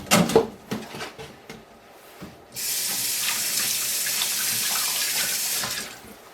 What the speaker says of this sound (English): So you rinse the filter.